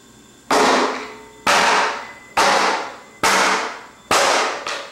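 Five loud, sharp impacts of a garden rake striking a hard plastic security camera housing at steady intervals, each bang ringing briefly before the next blow lands, close up.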